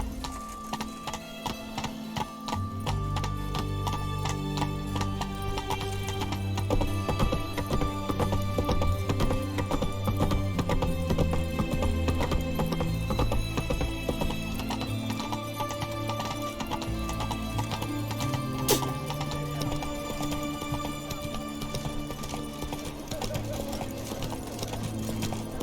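Roach the horse galloping in The Witcher 3, a steady rhythmic clip-clop of hooves repeating at a quick pace under game music, with a brief whinny.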